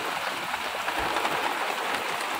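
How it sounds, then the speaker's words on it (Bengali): Heavy rain falls steadily as a dense, even hiss with no break, heard close by from shelter in front of a shop. "জোরে এসে গেছে বৃষ্টি"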